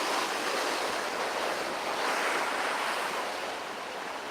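Ocean waves breaking on the shore at Ocean Shores on a cool day form a steady, loud, broadband roar of surf that holds for the whole stretch with some wind noise, then eases slightly toward the end, with no talk.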